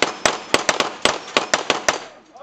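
Rapid gunshots ring out at falling steel plates in a speed-shooting stage, about a dozen sharp, loud cracks in quick irregular succession, with faint voices in the background.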